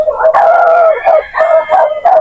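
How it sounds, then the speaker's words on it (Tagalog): A dog near a house on a slippery, muddy rural path barks and howls loudly and up close, with several drawn-out howls broken by short yips. "Ayan po si Ray, hala may aso."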